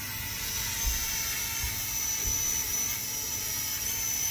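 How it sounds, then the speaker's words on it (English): A small drone hovers close by on a homestead, a steady high-pitched buzzing whine of spinning propellers with low fluttering throbs underneath. "Don't run the drone into me."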